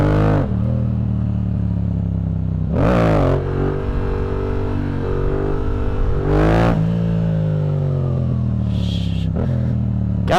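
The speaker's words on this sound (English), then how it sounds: "My transmission is getting so clunky, bro." A car with a clunky transmission drives along with a steady engine drone that rises and falls through gear changes. Brief loud surges and clunks recur every few seconds, up close.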